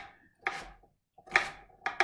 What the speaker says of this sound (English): chop them. Keeping the tip of the knife always in contact with the chopping board and just moving the heel of the knife